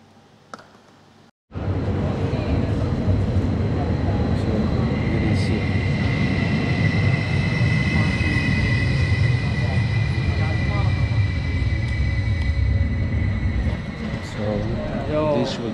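A train arrives at Helsinki Airport station, a loud, steady rumble that sets in abruptly after a quiet start, with a sustained whine and squealing tones running through it to the end.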